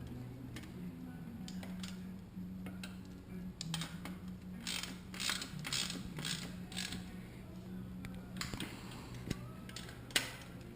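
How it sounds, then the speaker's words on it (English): A socket wrench tightens a bolt on a Panasonic e-bike motor, giving a series of faint close ratcheting clicks and creaks in uneven bursts over a quiet hum. "I'm just going to put the socket on the bolt,"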